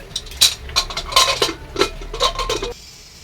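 Potatoes being dropped into a pressure cooker, with a quick run of close clinks and knocks of metal and utensils, followed by a brief quiet tail.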